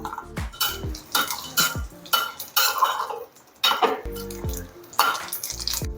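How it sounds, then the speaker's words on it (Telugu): Cashews and raisins fried in ghee for boondi ladoo, stirred briskly in a pan: repeated loud scraping and clanking of a spoon against metal in uneven bursts, with faint sizzling underneath. "కాజు అండ్ కిస్మిస్ వీటిని బాగా ఫ్రై చేసుకోవాలి గీలో"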